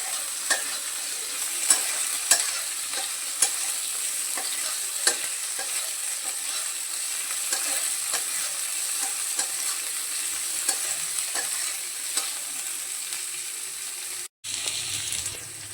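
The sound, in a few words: frying onion, garlic and green chili in pan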